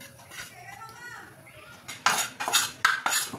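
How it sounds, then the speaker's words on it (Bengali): Turmeric stirred and roasted in a pan for a homemade face pack: soft scraping early on, then a series of sharp metallic clanks and rattles of a spoon against the pan, close and bright. "এবার এটাকে ভালো করে রোস্ট করে নিতে হবে যতক্ষণ না এটা কালো হয়ে যাচ্ছে"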